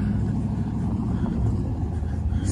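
A car rolls past close by outdoors at Pier Park in Panama City Beach, Florida, its steady low engine rumble and road noise filling the whole moment with no clear rise or fall.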